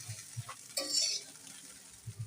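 Chicken kasha and biryani mixed together by hand, giving a short burst of soft, wet squelching and stirring near the middle, with quieter low thumps of hand on dish before and after.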